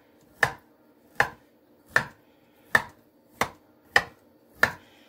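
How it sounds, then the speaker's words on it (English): A knife stabs repeatedly down through a pork loin roast, seven sharp, evenly spaced thuds about a second apart, close and distinct with quiet between them. "We're going to take this knife and we are going to poke holes all the way down through this."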